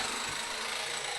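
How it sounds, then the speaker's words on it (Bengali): An electric drill machine whirs in a steady, continuous drone, fairly faint and somewhat distant, with no voices over it. "এই যে ড্রিল মেশিনের আওয়াজ।"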